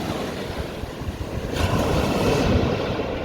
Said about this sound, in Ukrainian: Давайте будемо дивитися на хвилі.